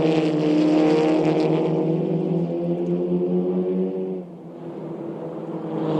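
SEAT Leon Eurocup race cars at the Nürburgring, with a loud, steady engine drone that holds high and then drops in pitch as the cars pass, no voices over it.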